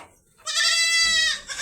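A goat on a home farm, with the herd just brought in through the gate, lets out one long, loud bleat close by, after a brief quiet start.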